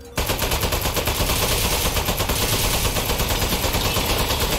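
Sustained rapid automatic gunfire in the video game Aperture Desk Job, a loud, dense, unbroken burst of shots that lasts throughout after a brief quiet start.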